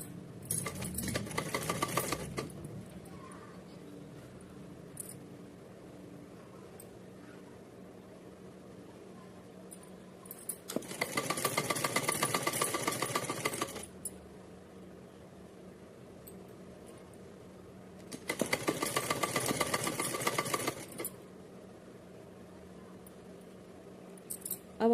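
A sewing machine stitches a folded thin fabric strip for a Radha Rani deity dress. Three separate bursts of steady, fast mechanical whirring run a few seconds each, close by, with quiet pauses between them.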